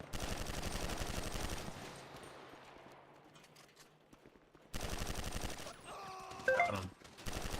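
Automatic gunfire in GTA 5 roleplay, rapid rattling bursts that fade, then resume abruptly with a short electronic effect mixed in.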